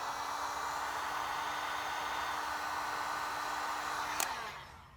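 A heat gun blows a steady, loud airflow hiss with a faint whine as it heats vinyl wrap on a Cybertruck to shrink out a wrinkle. It cuts off near the end and winds down. No one speaks.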